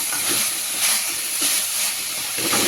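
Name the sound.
frying coriander tomato chutney in a pan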